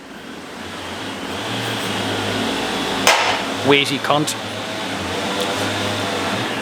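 A chainsaw cutting timber drones steadily in the background throughout, with a few sharper metallic clatters near the middle and someone talking briefly over it.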